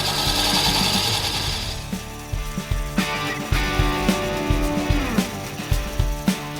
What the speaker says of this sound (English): Safety glasses on, machine on, and I'm using a push cut in this case.